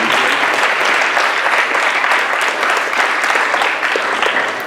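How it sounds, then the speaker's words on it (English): An audience applauds at a public debate with sustained, dense clapping across the whole stretch, loud and even, with no voices heard. "I want to applaud everyone"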